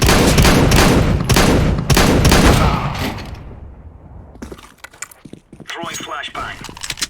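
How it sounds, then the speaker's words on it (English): In the Warzone video game, a flashbang grenade is thrown amid a dense burst of loud gunfire and crackling bangs that fades into scattered metallic clinks and rattles, with a voice briefly heard. "Deploying flashbang. Throwing flashbang."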